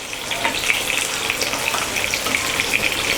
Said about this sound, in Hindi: यहाँ पर अच्छे से फ्राई हो चुकी है हमारी बोम्बिल मच्छी